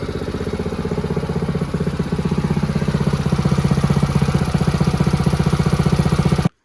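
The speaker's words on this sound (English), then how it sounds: "She started up first pull, it was running great." A Predator 212 minibike engine that had been sitting, now restarted on fuel mixed with fresh gas, idling with a steady rapid chugging pulse close by before it cuts off abruptly.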